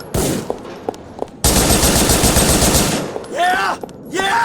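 Rapid automatic gunfire in Grand Theft Auto IV rattles out loud and close in a sustained burst, with shouted voices before and after it.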